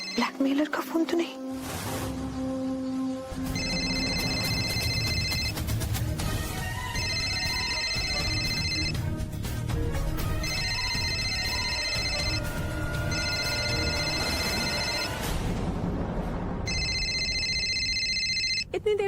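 A telephone rings in a Hindi TV drama scene, a bright electronic ring that repeats in regular bursts over about twenty seconds against a busy background.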